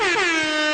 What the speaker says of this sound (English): I give myself a DJ air horn for that.